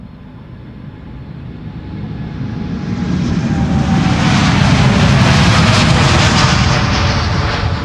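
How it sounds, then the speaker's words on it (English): American Airlines Boeing 787 Dreamliner, about three years old, departing Schiphol for Dallas, its jet engines swelling from a distant rush into a loud, close roar that peaks near the end. "American Airlines Flight 221 to Dallas on their way"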